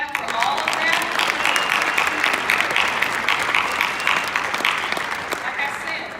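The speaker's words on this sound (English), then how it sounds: "can we clap for all of that?" Applause from an awards-ceremony audience in Nashville: brisk, sustained clapping from a sizable crowd, fairly close and even in level, with faint voices mixed in.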